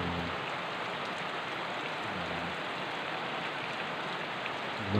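Rain falls steadily on a small garden, a dense even hiss of drops on leaves and surfaces, constant and fairly soft, with no voices over it.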